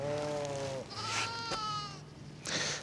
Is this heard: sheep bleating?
yes